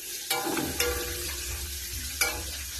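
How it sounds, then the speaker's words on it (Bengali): Pointed gourd frying in oil in a kadai gives a steady sizzle, with a few sharp stirring scrapes, close and moderately loud, with no talking. "আর আমি ওই পাশে কড়াইতে দিয়েছি পটল ভাজা।"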